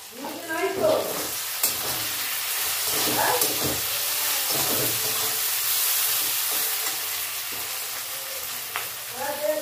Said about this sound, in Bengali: এবার ভালো করে নাড়বো। দেবো 1 চামচ রেড চিলি পাউডার,